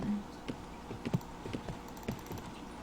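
Horse hooves in the video game Riding Star, a soft irregular clip-clop of footfalls, close but faint, mixed with light clicks and taps over quiet background hum.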